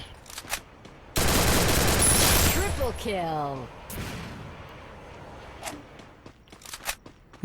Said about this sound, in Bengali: এখনো ফায়ার করছে মানে ফাইট করছে এপাশে